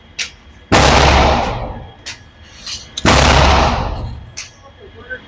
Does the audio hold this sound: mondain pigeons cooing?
no